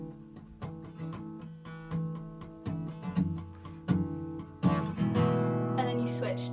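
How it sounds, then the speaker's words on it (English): An acoustic guitar plays chords with palm-muted downstrokes. The strums are short, damped and evenly spaced, then a louder, more open strum rings out near the end. It is close and moderately quiet, with no voices. "So it sounds like this, and then I've kind of got a palm mute on."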